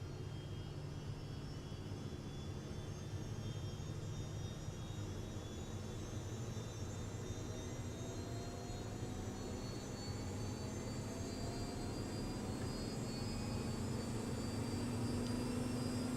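Twin helicopter turbine engines spool up during a start in Microsoft Flight Simulator 2024: a steady, dense roar with thin whining tones that slowly climb in pitch and grow slightly louder, with no talking.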